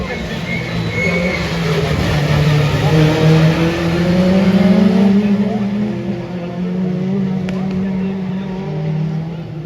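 Rallycross race cars in the Joker lap at Faleyras, engines droning loud and close with rising and falling revs, under continuous French commentary.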